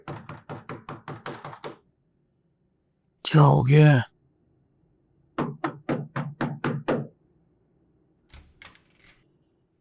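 Knocks on a door in three bursts of rapid raps, with a longer bout after a short pause and a final faint tap, broken by a brief spoken question.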